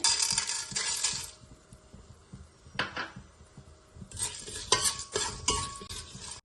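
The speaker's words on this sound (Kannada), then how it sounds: "ಇದು ಸ್ವಲ್ಪ ಫ್ರೈ ಆದ್ಮೇಲೆ ಕಡಲೆಬೇಳೆ ಹಾಕ್ತಾ ಇದ್ದೀನಿ." Bay leaf, fennel and chana dal fry in a pan with a light sizzle, broken by bursts of metallic clatter and spoon scraping against the pan, and no talking.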